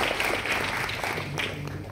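A crowd at a felicitation ceremony honouring a bamboo-industry pioneer breaks into steady, continuous applause, a full, close wash of many hands clapping for two seconds.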